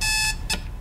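An alarm clock rings in a horror video game set in a motel, a loud, steady electronic beeping tone that cuts off, then returns in short bursts.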